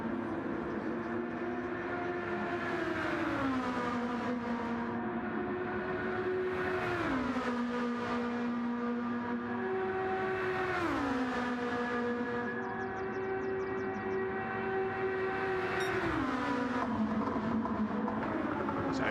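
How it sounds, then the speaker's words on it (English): A Lexus race car engine on a flying lap at Spa-Francorchamps in a racing video game, revving high and steady, with sharp drops at each gear change, loud and continuous with no talk. "So here comes Mario at the end of the coming straight, getting his flying lap underway in the Lexus"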